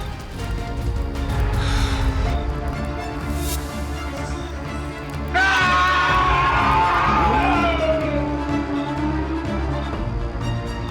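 Angry crowd shouting during a chase, a loud jumble of raised voices and yells that swells sharply midway and stays dense and agitated to the end.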